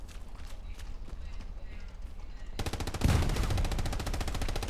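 Rapid machine gun fire in the Hell Let Loose video game during a competitive console match, a dense rattling burst that grows louder partway through over an ongoing battle din.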